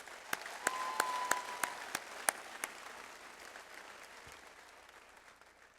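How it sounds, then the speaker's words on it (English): An audience at a college graduation ceremony claps, with sharp individual claps over a dense patter of applause that slowly fades and thins toward the end. "Let's give them a round of applause."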